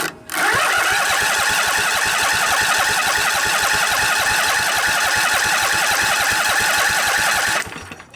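A Briggs and Stratton Intek twin riding lawnmower engine from a junkyard cranks, catches and runs, a loud, rapid, steady chugging throb that holds for several seconds before cutting off.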